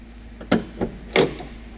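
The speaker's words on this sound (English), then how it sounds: "Open the hood." Hood of a Jeep Wrangler being opened in a garage: a sharp metallic latch clunk, a softer knock, then a second heavier thunk as the hood lifts, close and fairly loud against a low steady hum.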